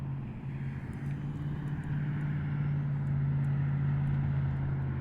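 A Volantex 500mm F4U Corsair RC warbird makes a low-throttle pass, giving a steady electric motor drone with a constant low hum that swells slightly as it passes nearby.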